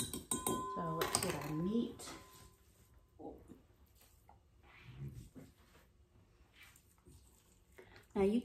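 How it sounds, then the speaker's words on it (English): Elk backstrap jerky marinade with crushed garlic, salt, balsamic vinegar and Dijon mustard being whisked in a bowl, heard as light, close clinks and scrapes of metal on the bowl, with someone talking over them. "I'm just gonna whisk, blend everything together evenly."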